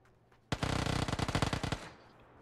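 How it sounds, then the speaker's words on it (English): Automatic rifle fire in the PUBG video game: one rapid burst of roughly a dozen loud, closely spaced shots lasting just over a second, with no voices. "I hear him shoot"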